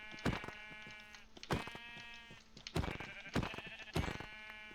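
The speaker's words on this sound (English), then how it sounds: "Here's one sheep." Sheep in a video game bleat several times, a few loud close calls spaced irregularly over steady ambient background, with no talking.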